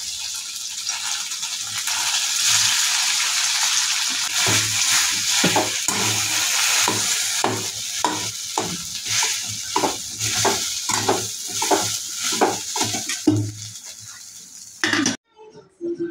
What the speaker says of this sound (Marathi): हे फुनके आहेत त्यांना आपण परतून घेऊयात तेलामध्ये.